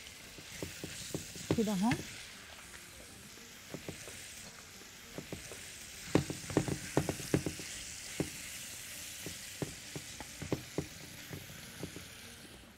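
Black-peppered beef cubes fry in a pan with a steady sizzle, broken by frequent clacks and scrapes of stirring. A voice speaks briefly near the start.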